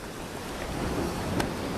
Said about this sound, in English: I see the ocean wants to get involved in our broadcast today.